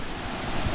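A short burst of rushing, hissing water spray swells briefly, loud and close, as a bike tire cuts through a puddle in Tamarindo.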